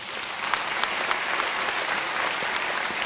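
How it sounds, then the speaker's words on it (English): An audience claps in a steady, dense round of applause at a university chancellor's inauguration ceremony at UNISA, sustained and even throughout with no voices over it. "a round of applause?"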